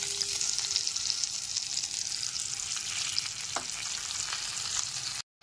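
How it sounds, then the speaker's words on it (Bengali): Ground spice paste fries in oil over a low gas flame after a light tempering, giving a steady close sizzle with a brief scrape of stirring near the middle before cutting off abruptly. "ফোড়নটা হালকা করে ভেজে নেওয়ার পর গুঁড়ো মশলার পেস্টটা দিয়ে দিচ্ছি"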